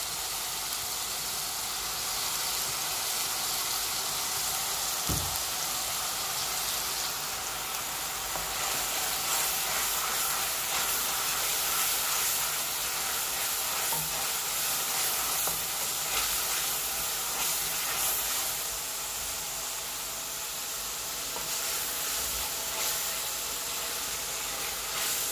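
Kangla fish curry fries in a pan while being stirred, a continuous loud hiss and sizzle with an occasional knock of the utensil, no voices.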